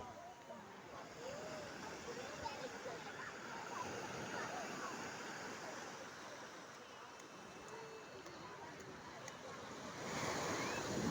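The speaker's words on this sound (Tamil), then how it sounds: "எங்கன்னா அங்கே அலை சூப்பராக அடிக்குது." Sea waves break steadily on the shore in a continuous surf wash with wind buffeting the microphone; children's voices and chatter are faintly mixed in.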